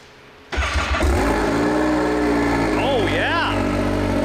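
A Can-Am X3 side-by-side starts from cold with its Shocker exhaust open. The engine catches abruptly and settles into a steady, loud, close idle, with a couple of quick revs near the end.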